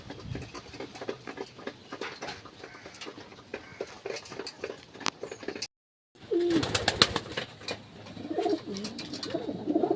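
Pigeons cooing in a loft, repeated soft throaty coos and wing flutters nearby, with a brief dropout midway before the cooing resumes closer and louder.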